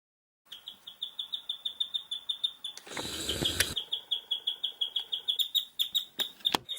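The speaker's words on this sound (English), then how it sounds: "my guinea pigs would just feel the need to chirp in the middle of the night" A guinea pig chirps rapidly and regularly at night, high-pitched chirps repeating steadily at close range, interrupted briefly by a rustling noise midway.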